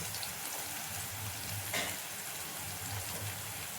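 Onion and garlic fry in a pan over a medium gas flame, giving a quiet, even hiss of sizzling oil that runs steadily from start to finish, heard close with no talk.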